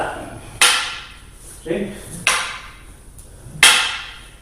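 Three sharp cracks come from a cane delivering lateral strikes in Canne de Combat, spaced about a second and a half apart, loud and close, with a brief spoken word between them.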